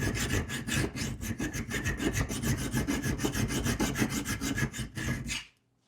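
A hand file rasps across the metal of a knife blade in steady, rapid back-and-forth strokes, loud and close, about twenty strokes before stopping abruptly.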